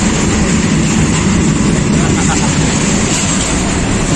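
A goods train rumbles past in a loud, continuous roar heard from aboard a moving passenger train, with dense low clatter and rushing noise and no distinct pauses.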